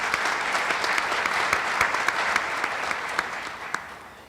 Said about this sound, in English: Let's give Leslie a round of applause